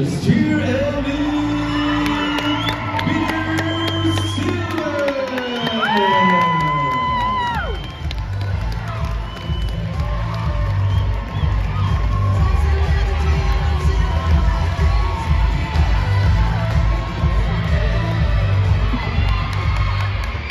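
A crowd at a cheerleading competition cheering, whooping and shouting for a junior cheer team, with lively, sustained noise and rising whistle-like shouts in the first half before it settles into a steady roar.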